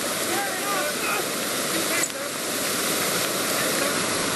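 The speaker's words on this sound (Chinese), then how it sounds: "由于脚底就是波涛汹涌的急流" A swollen mountain stream in flood after a rainstorm roars steadily in the hills of Nantou, a dense, continuous rush of turbulent water with no break throughout.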